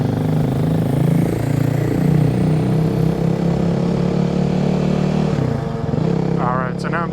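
A Kawasaki KLX 300 dirt bike fitted with an FMF Q4 exhaust rides past close by, its engine droning steadily with shifting pitch and easing off near the end.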